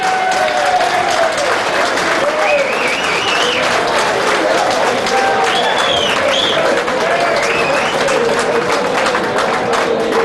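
Sustained audience applause filling a live club-night venue as the snooker player Jimmy White arrives on stage, loud and steady throughout with a few whoops rising over the clapping.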